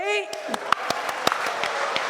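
A church women's group audience at a Cantonese gospel opera and dance event claps. Scattered, fairly close handclaps follow a brief voice at the start.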